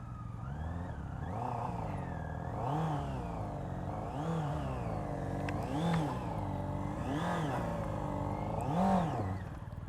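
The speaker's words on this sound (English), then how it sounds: "Joe, let's see if it'll do a burnout" Honda E-Clutch motorcycle attempting a burnout, its engine revving in repeated rising and falling surges over a steady drone, close and loud, with no voices.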